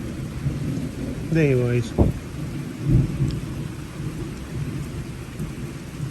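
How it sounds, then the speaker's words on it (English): Thunder rumbles about a mile or two off during a light rain shower in Waskom, Texas, swelling into a low roll over steady rainfall while someone talks briefly over it. "Still waiting for the thunder. There it goes."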